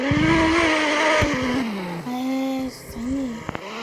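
A car drifting, its engine revving and dropping in loud bursts while tires squeal, with a couple of sharp knocks near the end.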